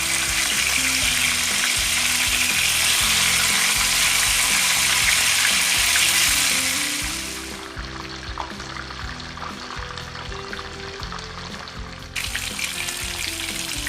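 Aar fish pieces frying in hot oil after being turned over, a loud bright sizzle that settles to a quieter, steady crackle midway, with a brief clatter near the end.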